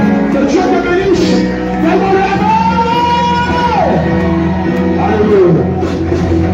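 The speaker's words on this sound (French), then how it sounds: "en poussant des cris de joie et de victoire" A church congregation raises loud cries of joy and victory, a sustained swell of overlapping shouts and whoops with one rising and falling voice standing out, continuous for several seconds.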